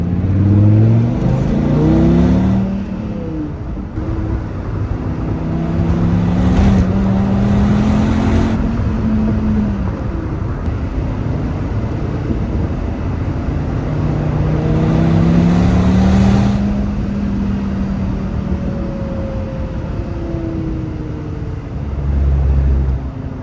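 A Dodge Viper sports car drives along a road with a steady, loud engine drone that rises and falls in pitch as it accelerates and shifts, heard from inside the car, with no talking.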